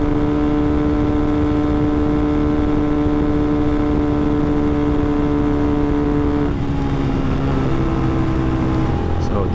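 A 125cc motorcycle engine runs steadily during a gear test after a carburetor needle jet change, holding an even, loud droning hum with harmonic tones, then its pitch shifts and roughens near the end.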